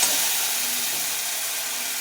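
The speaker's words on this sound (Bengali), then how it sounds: "আদা জিরা বাটা দিয়ে দিলাম। দিয়ে একটু নেড়ে নিচ্ছি।" Ginger and cumin paste frying in a hot pan as it is stirred for a pumpkin mung dal, giving a steady soft hiss and sizzle, even and continuous throughout, with no talking.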